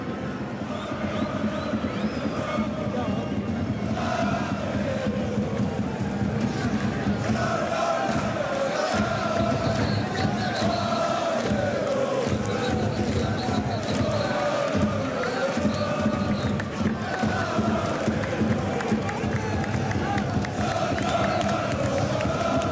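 A crowd of Olympique Lyonnais football supporters celebrating a win fills a stadium with loud, continuous cheering and chanting, rising and falling in waves, while a commentator talks over it.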